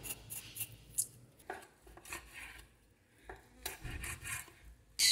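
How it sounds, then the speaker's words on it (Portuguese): A beef tongue is scraped clean for Bahian angu. Repeated rasping strokes come in irregular bursts, close and moderately loud, with a sharper scrape at the very end and no talking. "Agora nós vamos limpar a linguinha. Vamos raspá-la."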